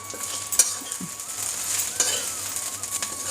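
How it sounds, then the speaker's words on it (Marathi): Chopped chickpea leaves with salt and crushed peanuts sizzle in a pan as a utensil stirs them, giving a steady close frying hiss broken by a few light scraping clinks. "यात थोडं मीठ घालून घेते आणि आता एकसारखी हलवून घ्यायची."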